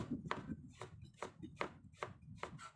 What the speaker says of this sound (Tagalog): Tsagayin nyo lang guys sa paghihiwa.